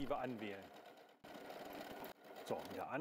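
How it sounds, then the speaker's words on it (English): A W6 N 5000 Exklusive sewing machine runs through a stitch pattern with a steady mechanical whirr for about a second, alongside a voice speaking at the start and end. "Wait for the machine to finish."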